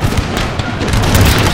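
Artillery fire in Empire Total War, heard as a dense, rumbling boom with low crackle sustained through a short stretch, loud and close with no talking over it.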